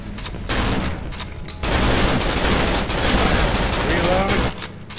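Heavy gunfire blasts in the horror game Cry of Fear, including shotgun shots, sounding loud and close in dense overlapping bursts while players talk over the action.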